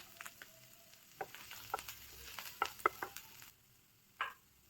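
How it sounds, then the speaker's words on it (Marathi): Garlic and ginger hit hot oil for a Manchow soup tempering, giving a soft, close sizzle with scattered pops, stirring taps and scraping, then a quieter lull and one final clatter. "आता आपण मंचाव सूपला तडका मारून घेऊया."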